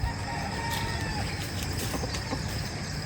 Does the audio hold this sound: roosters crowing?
yes